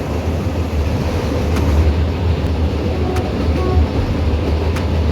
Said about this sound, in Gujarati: 50ની સ્પીડમાં આ ટ્રેન ચાલે છે.